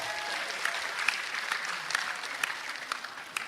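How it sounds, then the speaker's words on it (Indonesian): Mothers in the audience at a political rally gathering applaud, giving a dense, fairly loud burst of clapping with a few sharper claps standing out, close and continuous throughout. "Monggo ibunya, tepuk tangan dong."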